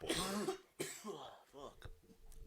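Harsh coughing from a person smoking a joint: a burst of rough coughs up close, then a throat clearing, with brief voice sounds mixed in.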